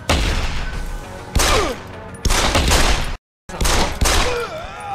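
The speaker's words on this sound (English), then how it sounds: "I like blind firing." Blind-fire gunfire in Deus Ex: Human Revolution, loud, sharp bursts of automatic shots in several separate volleys with abrupt gaps between them, with brief whining tones near the end.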